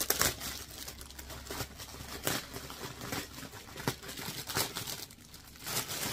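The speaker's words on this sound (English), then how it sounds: "caution, caution, there's gonna be crinkling." Plastic packaging crinkles and crackles up close in irregular bursts while a dog toy box is unpacked and assembled, with no talking.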